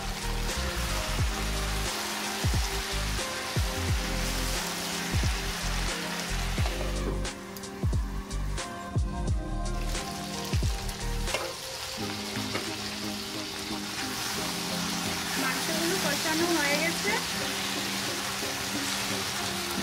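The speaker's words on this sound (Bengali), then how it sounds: "ফ্রাই করে রাখা আলুগুলো দিয়ে দিচ্ছি।" Pre-fried potatoes go into a pan of sizzling Bengali-style desi chicken curry, making a steady, dense frying hiss with a few sharp clatters and stirring knocks, close and loud, with no talking.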